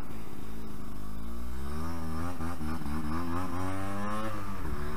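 A Yamaha RD 125 LC YPVS two-stroke motorcycle accelerates hard along a straight road, its engine note rising through the revs in a loud, buzzing climb with a gear change, heard close up throughout.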